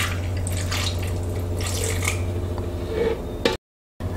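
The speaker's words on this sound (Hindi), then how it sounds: "और थोड़ा सा दूध डाल लेंगे।" Milk pours onto banana in a container for a banana milkshake, a steady close liquid trickle with light splashy texture that cuts off abruptly near the end, with no voices.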